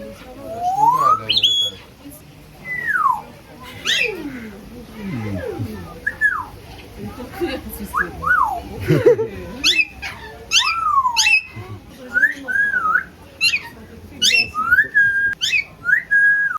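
A bird in Madeira gives a long series of playful whistles, swoops and chirps, some rising and falling sharply, with quieter background sounds between calls.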